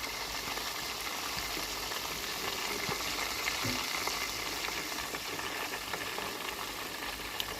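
Chicken pieces fry in a pan, a steady close bubbling sizzle that runs evenly throughout without pause.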